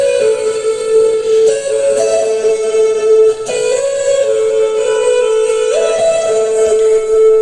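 Heavily effected vocals in a track, a sustained, smeared and shimmering tone with pitch glides and dense layered reverb, loud and continuous throughout.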